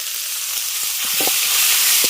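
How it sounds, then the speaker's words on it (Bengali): Onion, ginger and garlic paste hits hot oil left over from frying crabs, giving a steady bright sizzle with a few soft clicks and utensil taps, close and continuous, swelling slightly toward the end. "কাঁকড়াগুলো তুলে নেওয়ার পর ওই তেলের মধ্যেই দিয়ে দিচ্ছেন পেঁয়াজ আদা রসুন বাটা"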